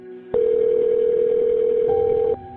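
A single steady telephone tone opening a recorded 911 emergency police call, holding loud and unbroken for about two seconds with a slight pitch step near the end, no voices.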